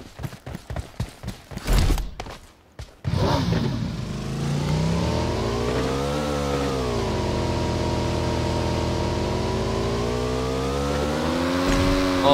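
Engine of a car being driven in the PUBG Mobile battle-royale game, a steady droning hum that rises and falls in pitch as it accelerates, following a few sharp bursts at the start.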